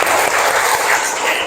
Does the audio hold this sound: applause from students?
yes